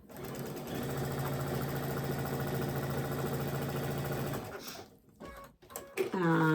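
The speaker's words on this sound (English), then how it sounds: "I'm going to sew a diagonal line from this tip down to the other tip." A sewing machine stitches a diagonal line across a quilt sampler block, running steadily and close with a dense mechanical whir for about four seconds, then it stops and a few softer clicks and shuffles follow.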